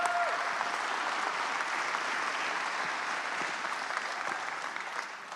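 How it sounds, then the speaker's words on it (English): Steady applause from the crowd at the 2020 Lancaster Archery Classic men's open finals for Jared Laux, an even, continuous wash of clapping heard from a distance that tails off slightly at the end. "Let's give Jared Laux a big round of applause."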